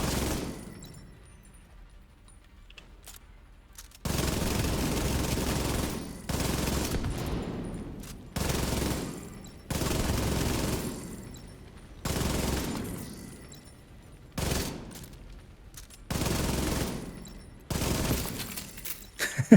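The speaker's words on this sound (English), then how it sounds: "Literally with my last few shots I killed the last guy." Video game gunfire in bursts, loud sustained volleys of rapid automatic shots lasting a second or two each, separated by short quiet gaps, repeating about eight times.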